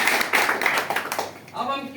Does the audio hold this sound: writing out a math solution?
no